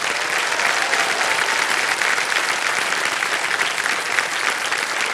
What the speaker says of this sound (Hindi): और देवी सामने ताली बज रही है